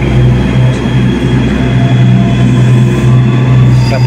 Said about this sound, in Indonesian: Dan terlihat ada kereta feeder.